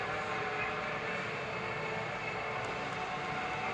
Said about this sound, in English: Oh, there's a freight train coming into the station.